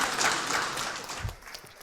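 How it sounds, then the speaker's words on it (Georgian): Studio audience applauding at the finale of a TV show, a broad wash of many hands clapping at moderate volume that gradually thins and fades. "აპლოდისმენტები არ შეწყდეს."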